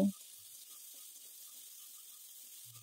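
Onion, tomato, ginger, garlic and green chilli sauté in a pan, giving a faint, steady sizzling hiss throughout, with a brief voice at the very start.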